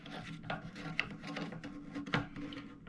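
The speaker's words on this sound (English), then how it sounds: "you can see that we're just going to screw this right back on that we took off earlier." A plastic nut is threaded back onto a toilet fill valve under the tank, giving faint, close scraping and rubbing with a couple of small clicks and no talk.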